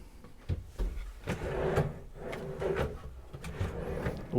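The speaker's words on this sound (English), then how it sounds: "you've got drawers in here as well, so these just slide out" Soft-close drawers slide in and out inside a Niesmann + Bischoff Flair 920 motorhome, several soft wooden rumbles and muted knocks close by, with no talking.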